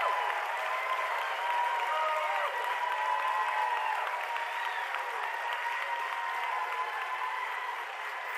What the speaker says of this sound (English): So I want you to give these individuals an amazing round of applause.